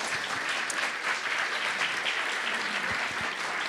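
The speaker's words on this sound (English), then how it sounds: "A big round of applause for the kids." Audience applause for children after a grade 6/7 school presentation, a steady, full wash of clapping from a crowd, fairly loud and even, with a couple of soft thumps near the end.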